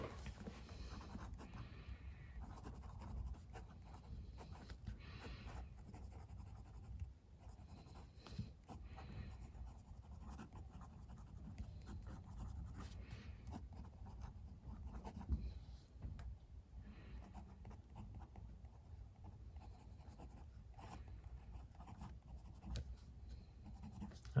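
Extra fine nib of an Etchr Lab fountain pen scratches faintly across paper in a long, irregular run of light strokes, quiet and close with no talking.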